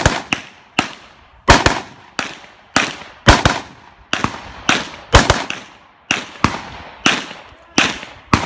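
Rapid gunshots ring out at a USPSA practical shooting stage, about a dozen sharp, loud reports in uneven bursts, each cracking and decaying quickly, with no talking.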